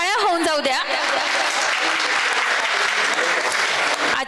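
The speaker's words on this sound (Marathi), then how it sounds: "एकदा जोरदार टाळ्या होऊन जाऊ द्या." An audience at an award ceremony breaks into loud, sustained applause from a large crowd. A speaking voice sounds briefly at the start before the clapping fills everything.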